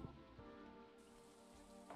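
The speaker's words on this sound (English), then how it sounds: "Oh, it's raining." Steady rain falls in a farming video game, a continuous even patter with no talking over it.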